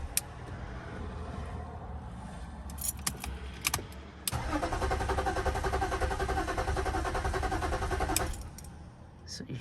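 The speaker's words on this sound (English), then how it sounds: "So you heard it, it's crank, and the crank is very good." A BMW E39 engine cranks steadily without catching, a loud sustained mechanical churn lasting about four seconds after some faint clicks and key jangling, then cutting off.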